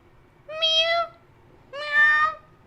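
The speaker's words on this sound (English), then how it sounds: "There's a tiny little cat outside that door, scrunching her face underneath the door," A small cat meows twice from outside a door, two clear drawn-out cries about a second apart, fairly close and loud over quiet room tone.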